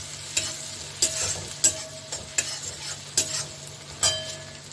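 Grated ginger stirred and fried in a pan, with repeated scraping strokes of a spoon over a low, steady sizzle, close and clear with no talking.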